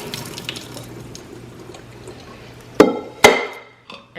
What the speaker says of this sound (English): I am gonna drain some of this water off.